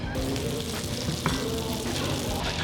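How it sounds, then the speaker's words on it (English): Hot chicken grease sizzles and crackles continuously up close, with a faint metallic tick partway through. "I need to film this before it stops sizzling."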